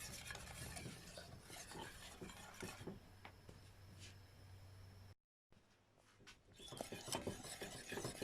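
Granadilla curd stirred in a pot, soft repeated scraping and clinking of a utensil against the pan, quiet and close, with a brief gap of silence midway.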